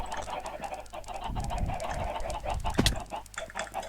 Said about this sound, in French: je sens des bruits de poules.